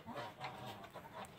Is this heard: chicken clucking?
yes